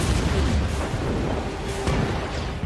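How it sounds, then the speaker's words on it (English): A powerful grenade explosion in a film battle scene, heard as a dense, sustained roaring rumble with crackling debris that fills the whole stretch at steady loudness. "throws a grenade into the area, causing a powerful explosion"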